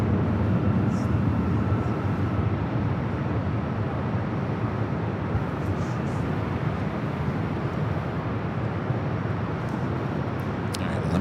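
Broad, steady roar of jet aircraft at Los Angeles LAX airport at night with all four runways active, a dense continuous rumble that stays loud and even throughout with no distinct events, and faint voices mixed underneath.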